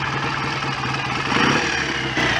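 A rebuilt BSA A65 motorcycle engine idles nearby with an even, pulsing putter of regular firing beats that swells slightly in loudness partway through.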